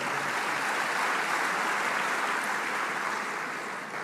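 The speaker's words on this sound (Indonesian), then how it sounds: "tepuk tangan juga untuk para wakil rektor" Audience applause for vice rectors at a university event, a steady dense wash of clapping that holds evenly throughout and eases slightly at the end.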